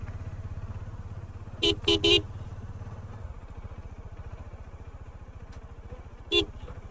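Royal Enfield Himalayan 450 motorcycles on a beach, a close steady engine thrum with several short horn toots, one cluster of three early and another single toot near the end.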